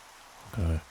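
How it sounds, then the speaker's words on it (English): Rain in the Minecraft video game makes a soft, even hiss that a voice cuts into near the end. "get in out of the rain"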